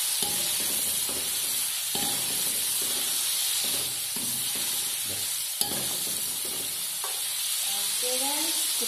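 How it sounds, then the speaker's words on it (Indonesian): Shrimp frying briefly in a pan for Acehnese noodle seasoning, a constant soft sizzle and hiss with repeated scraping stirs of a utensil, close and fairly quiet, no talking. "Udangnya kita goreng sebentar saja ya, jangan sampai masak,"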